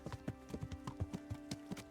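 A horse's hooves clip-clop in a steady trotting rhythm in a medieval video game, sharp close hoofbeats roughly every quarter second over a faint background hum.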